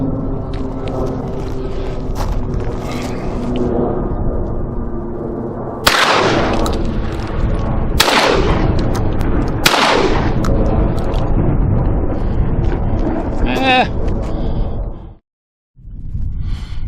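A Citadel Boss Hog 12 gauge shotgun fires outdoors: three loud, close blasts spaced a couple of seconds apart over steady background noise, followed by lighter mechanical clatter and a brief drop to near silence.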